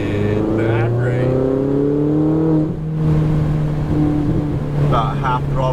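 A Ferrari 488 GTB engine on a race track pulls loudly, its rising revs climbing in steady sweeps with a brief lift around the middle before surging again, close and dominant throughout.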